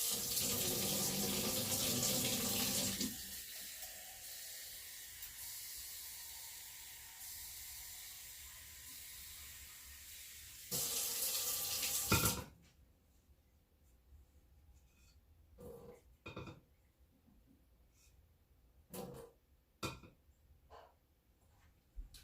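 Warm water runs from a kitchen tap into a liquid measuring cup for pizza dough, a loud steady hiss that shifts pitch as the cup fills, then stops, followed by faint clinks and handling sounds.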